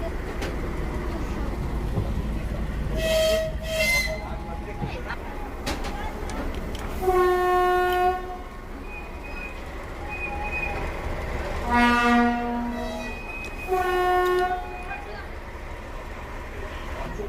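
An SU46 diesel locomotive departs with a special train: several horn blasts of sustained harmonic tone sound over a rumbling engine and outdoor noise, with a person speaking nearby between the blasts.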